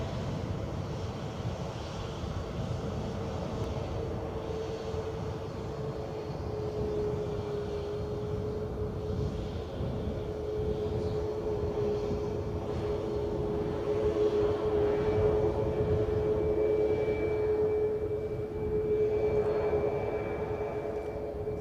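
Ryanair Boeing 737 at Edinburgh Airport, its jet engines holding a steady, fairly close roar with a sustained tonal whine across the whole stretch, swelling slightly later on as it prepares to roll.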